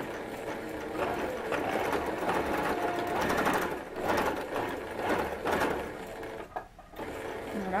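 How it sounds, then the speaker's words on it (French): A sewing machine stitches the seam of a ruffled dress with a continuous close mechanical whirr, then briefly stops and starts again near the end as it backstitches. A faint voice sits under the motor. "On va faire 3 points avant, 1, 3 points arrière."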